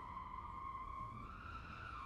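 A car swerves and skids while trying to drive away with something stuck on its tire, giving off a sustained, wavering tire squeal that holds steady over a low rumble.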